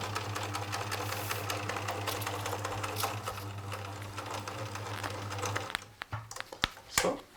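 A sewing machine stitches patchwork pieces for a cushion steadily with a low mechanical hum for several seconds, then slows into a few separate clicks and thumps.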